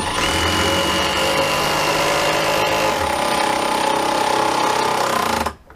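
Continuous loud mechanical rattling and buzzing of an impact driver driving screws into a stair runner, running steadily for several seconds, then cutting off abruptly near the end.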